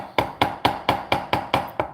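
Balled-up wire rivets being set with a hammer: seven sharp, evenly spaced metallic taps in quick steady rhythm, loud and close with no other sound.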